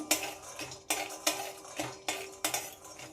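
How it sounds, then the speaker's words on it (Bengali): Raw peanuts dry-roasting in a hot kadai over a low gas flame, heard as a steady run of close scraping, rattling clinks from a utensil against the pan, with no talking. "গ্যাসটা লোয়ে রেখে বাদামটা ভেজে নিতে হবে।"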